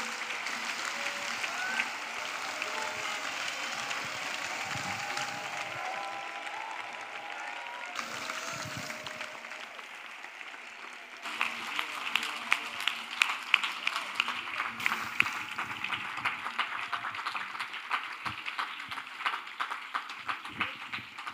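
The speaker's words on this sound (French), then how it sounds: "Let us clap for Jesus." A church congregation applauds during a service, sustained crowd clapping that thickens into sharper, louder hand claps in the second half, with some voices faintly mixed in.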